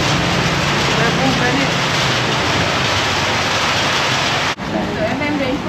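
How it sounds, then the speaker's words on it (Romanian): The year's first rain falls in Laos as a loud, steady hiss that covers the whole span. A brief dropout comes near the end, and voices may sit faintly beneath the downpour. "Prima ploaie pe anul ăsta."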